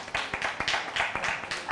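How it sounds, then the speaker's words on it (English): A small audience claps for a speaker at a student protest debate, a brief patter of close, uneven handclaps lasting under two seconds. "can we please give a round of applause for her?"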